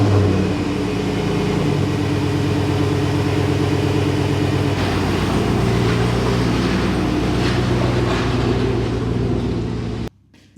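A 2007 Chevrolet Silverado with a 5.3 V8 and a Borla XR1 muffler dumped at the rear axle rumbles loudly and steadily up close for about ten seconds before cutting off abruptly.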